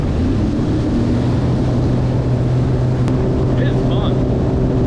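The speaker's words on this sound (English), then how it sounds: "First time ever on a jet ski." A jet ski riding across Anna Maria Sound in Florida, its engine a loud, steady close drone with constant water rush, a voice speaking over it.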